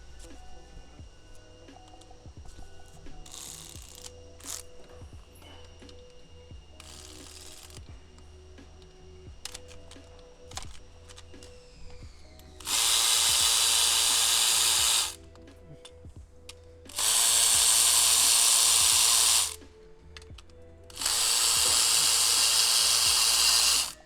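Power tools working on a turbo compressor bracket in a Chevrolet Sonic/Cruze engine bay: scattered clicks and clanks of tools, then three loud bursts of an impact gun or drill, each a few seconds long, with short pauses between.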